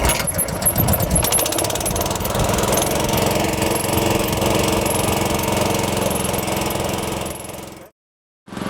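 The small engine on a SealMaster heated asphalt distributor fires up and settles into a loud, steady mechanical drone close by, with a rattling start before it cuts out abruptly near the end and briefly returns.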